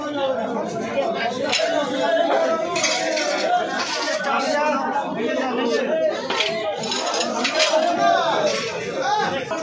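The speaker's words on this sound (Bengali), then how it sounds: "দেখো বন্ধুরা, আমরা কিন্তু মাছের বাজারে চলে এসেছি" Busy fish market stall area with steady crowd chatter, clinking metal and dishes, and scattered knocks and clatter, loud and continuous throughout with voices close by.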